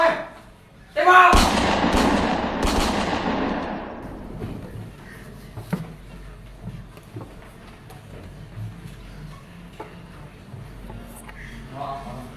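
Gunfire in an Aceh historical drama about Cut Nyak Dien: a loud burst of shots and blasts early on, fading into scattered thuds and distant reports with faint voices underneath.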